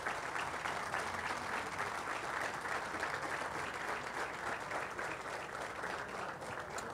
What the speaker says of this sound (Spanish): pido un aplauso para la brigada